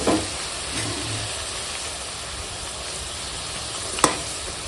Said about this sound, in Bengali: দেখো ভাজা মাছ আর এখানে ঝোল ফুটে গেছে